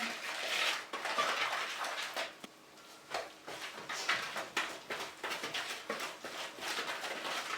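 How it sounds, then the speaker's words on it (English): Cake batter for a rich Jamaican Christmas cake is mixed with butter in a bowl, giving a close, steady run of scraping, knocking and clinking strokes against the bowl with a few short pauses. "Alright, so we're mixing it in with the butter"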